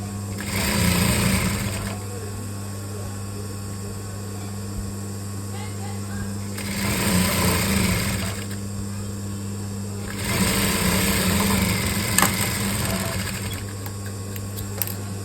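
A sewing machine stitching a coat-model gown converted from a saree, running in three whirring bursts of a second or two each, separated by pauses, with a steady motor hum underneath and a voice talking between runs.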